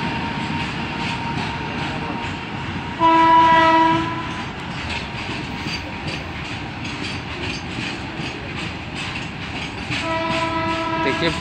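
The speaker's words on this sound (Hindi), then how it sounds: "खाली गाड़ी माल गाड़ी देखिए पास हो रहा" A freight train of empty goods wagons rumbles past near Bhandaridih railway station, Bokaro, India, with steady clattering of wagons, its horn blaring briefly near the start and again toward the end, loud and close.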